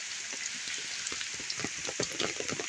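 Rain pattering steadily on a bee farm, a dense wash of drops with scattered sharper splats, close and even throughout with no voices.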